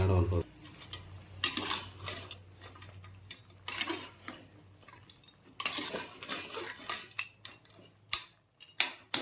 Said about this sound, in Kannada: ಅರ್ಶಿನ ಪುಡಿ ಹಾಕ್ಬಿಟ್ಟು ಚೆನ್ನಾಗಿ ಚೆನ್ನಾಗಿ ಮಿಕ್ಸ್ ಮಾಡೋಣ